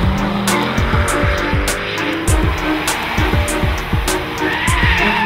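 A performance four-door saloon, such as the Mercedes C63 AMG, squeals its tires hard with rapid engine revving and gear-like pulses, loud and close throughout.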